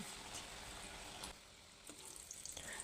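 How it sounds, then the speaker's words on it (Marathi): Methi mathri frying in hot oil over a low flame, a steady close crackling sizzle that briefly softens midway and then resumes with small pops, with no talking. "गॅस कमी करू आणि मठरी तेलामध्ये सोडू"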